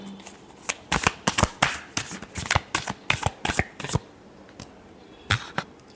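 Tarot cards being shuffled by hand: a run of crisp, papery riffles and slaps in quick irregular bursts, close and clear, then a short pause before two final snaps. No voices.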